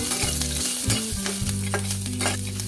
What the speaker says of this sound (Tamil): நான் ஹை ஃப்ளேமில் வச்சு ரெண்டு நிமிஷம் நான் இதை வந்து வறுத்துடுறேன்